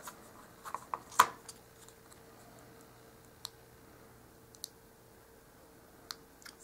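Scissors trimming miniature dollhouse dog food packaging, a few faint, sharp snips and clicks, one louder cut near the start followed by sparse soft ticks in a quiet room.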